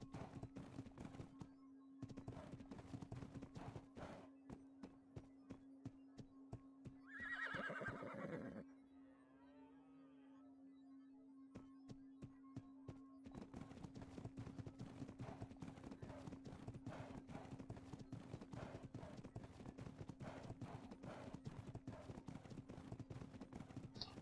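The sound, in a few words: horse hooves while riding in a video game (GunsmokeRP)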